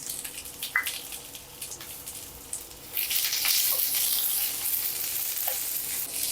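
Sliced onion frying with masala in a pan, a steady sizzle that jumps louder and hissier about halfway through, with occasional light scrapes of stirring.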